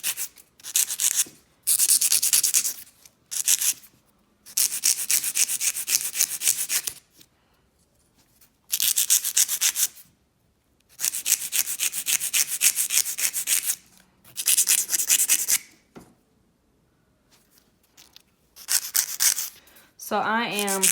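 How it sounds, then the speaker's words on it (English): Fingernails being filed with a nail file, close raspy back-and-forth scraping in bursts of several seconds separated by short pauses. "So anytime I'm filing, I do it a little bit and I turn my hand this way"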